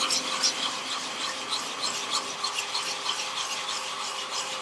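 Sandpaper of 180 grit is rubbed by hand across a turned softwood plate. The steady, dry scratching strokes repeat close up and fairly quietly, with no talking.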